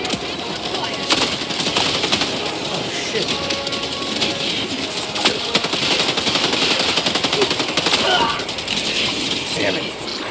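Rapid automatic gunfire from a Helldivers 2 battle rattles on for about ten seconds, dense and loud, with sharper bursts cutting through a constant roar of combat noise and distant effects.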